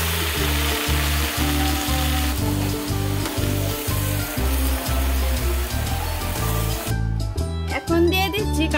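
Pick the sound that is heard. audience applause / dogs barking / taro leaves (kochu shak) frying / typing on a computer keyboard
taro leaves (kochu shak) frying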